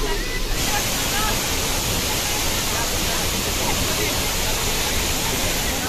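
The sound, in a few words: waterfall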